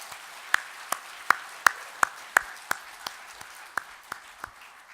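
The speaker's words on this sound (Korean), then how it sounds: "하나님께 영광의 박수를 올려드립니다." A church congregation claps in sparse, sharp claps ringing out one by one in a roomy space, irregular and fairly loud, thinning out toward the end rather than a full crowd ovation.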